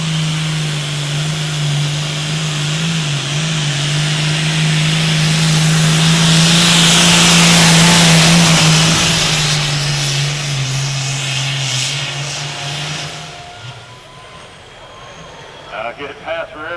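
A pulling truck roars at a Platte County Fair truck pull in Nebraska, a loud sustained engine drone building in intensity then dropping away after about thirteen seconds, with an announcer talking over it.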